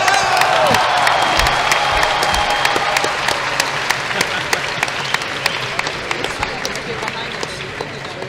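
An audience at a speedcubing competition cheers and applauds loudly and continuously, a dense wall of crowd noise with scattered sharp claps throughout, while a commentator's voice runs underneath.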